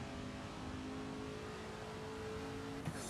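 Ford GT40 race car engine at Classic Le Mans in a VR racing game, a steady loud mechanical drone sustained throughout with a brief bump near the end.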